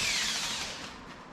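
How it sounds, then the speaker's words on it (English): A power drill pre-drills a hole near a stud while a Jeep top hoist is being installed. It gives one steady, close whirring run that fades slightly toward the end, and no one speaks. "Pre-drill right there."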